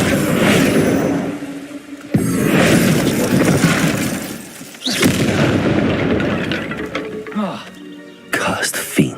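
Confringo blasting-curse explosions in Hogwarts Legacy, a series of loud close booms and crackling bursts, one after another with rumbling tails, mixed with game sounds and a spoken voice.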